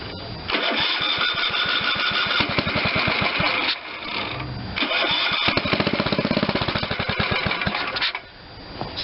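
A Tecumseh HH70 engine on an old Ariens rototiller is pulled over, fires and chugs loudly in rhythmic bursts, falters, restarts and runs again before fading away, all close up.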